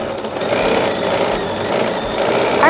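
A Bernina 770, 790 or 880 sewing machine stitches with the stitch regulator active, its needle running in a fast, steady mechanical chatter that rises and falls as fabric moves, close and fairly loud.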